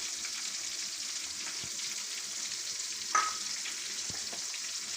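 Stuffed eggplants fry in a pan, giving a constant soft sizzle with a few light clicks and pops and one brief sharper tap.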